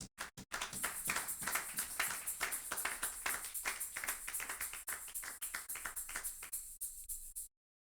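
A church congregation applauds with steady, dense clapping that carries on for several seconds and then stops abruptly, with a few sharp claps at the start.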